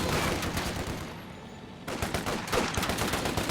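Rapid machine gun fire in Company of Heroes 2, with loud continuous bursts of gunfire, a brief slight lull in the middle, then heavy firing again.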